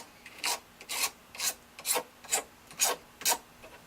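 A razor blade is drawn along the edge of a handmade bow to shave off burrs, giving seven even, scraping strokes about half a second apart, close and isolated with quiet gaps between them.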